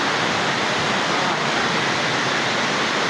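Steady, broad rushing of flowing water at a cold spring, constant and fairly close, with no other sounds standing out.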